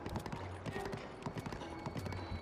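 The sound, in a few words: horse hooves in video game Zelda: Breath of the Wild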